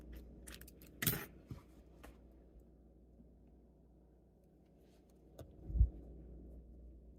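Scissors are handled while cutting yarn during a crochet project, giving two short, faint snips or clicks with near-silence between them in a quiet room.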